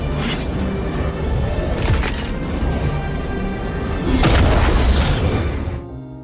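A loud, sustained explosion sound effect from an animated fantasy battle, a roaring burst that swells again midway before cutting off abruptly.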